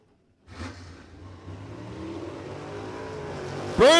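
At Warwick Dragway in Australia, a Pro Street Radials drag car, a Valiant, rumbles and revs at the line and then launches with rising engine noise. A sharp, loud burst of exhaust roar hits near the end.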